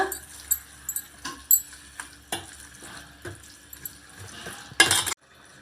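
Salt being stirred into red amaranth sambar in a metal pot, a series of distinct clinks and scrapes of a spoon against the pot, irregular and close, ending in a sharper clatter, with no talk.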